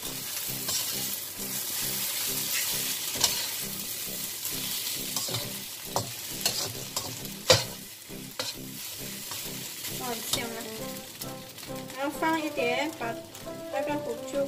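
Sambal mee hoon fries in a wok while it is stirred: a steady loud sizzle with repeated scraping and clattering strokes of the spatula close by, and a faint voice now and then.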